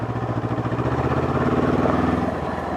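A Honda CL500 motorcycle engine runs steadily at low speed on a muddy forest road, a close, even mid-pitched throb with a pulsing rhythm that holds for the whole stretch, with no voices over it.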